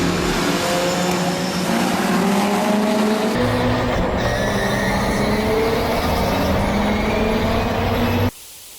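A spaceframed Mk1 Ford Escort race car with a BDT 1900 engine revs hard on a wet track, tyres scrabbling for grip, loud and continuous before the engine note drops off abruptly near the end.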